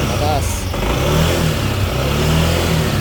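A motorcycle engine revs loudly and continuously up close during a stator voltage check, the roar rising and holding, with someone talking over it.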